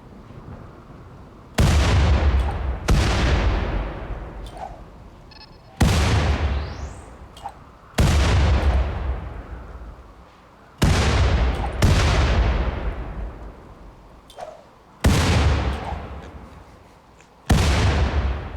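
Grenade blasts and gunfire in RimWorld ring out as a series of heavy booming explosions, about eight over the stretch, each a sharp loud burst that decays over a second or two, some overlapping with crackling shots.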